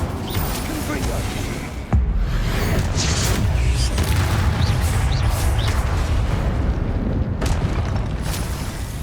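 In the video game Hogwarts Legacy, a Confringo blasting spell sets off a sudden booming explosion, followed by sustained rumbling combat noise with further bursts and pops.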